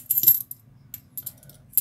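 Old Philippine centavo coins are handled, giving a few sharp, bright metallic clinks close by: a cluster at the start, a faint tap midway and another clink at the end, with quiet between.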